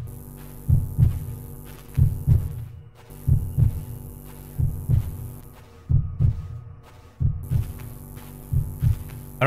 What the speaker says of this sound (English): Oh, the heartbeat means that I scan that.